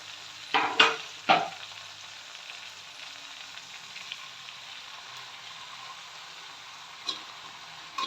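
Washed, chopped pathri wild greens sautéing in a kadhai, a low steady frying hiss broken by a few sharp stirring scrapes early on and another near the end.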